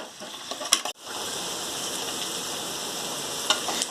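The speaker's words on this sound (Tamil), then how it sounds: "ஆனியன் நல்லா வதங்கட்டும்." Onions sautéing with curry leaves in a pan for a squid gravy, giving a steady close hiss and sizzle with a couple of brief stirring clicks near the start and end.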